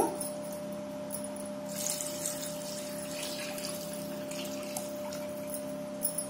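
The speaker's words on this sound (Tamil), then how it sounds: "இப்ப 1 லிட்டர் தண்ணி மட்டும் நான் ஊத்துறேன்" One litre of water pours steadily into a pot of rice for a few seconds with a soft splashing rush, over a constant low hum.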